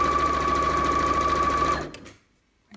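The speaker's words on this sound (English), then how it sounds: "and we are going to sew." A sewing machine stitches in a hidden zip with a steady, fast mechanical whir held close up, then stops abruptly, and a faint click follows.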